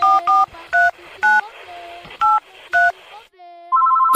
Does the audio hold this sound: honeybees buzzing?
no